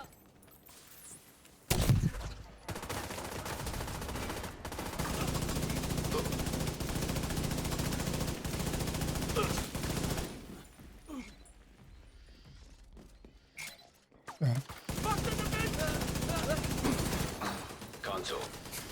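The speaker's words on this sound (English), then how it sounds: "Yeah, 2 turrets fighting each other." Two automated turrets in a video game trade sustained machine-gun fire in long bursts broken by brief pauses, fairly loud, with someone talking at times.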